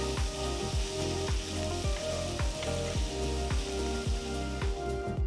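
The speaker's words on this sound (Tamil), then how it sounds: "ஒரு பெரிய வெங்காயத்தை நல்லா பொடுசா நறுக்கி சேர்த்து இது கூட 2 பச்சை மிளகாயும் நறுக்கி சேர்த்து 1 நிமிஷம் வதக்கிக்கோங்க" A finely chopped large onion and two chopped green chillies sautéing in a pan for a curd masala curry, with continuous close sizzling and regular rhythmic stirring strokes scraping through it.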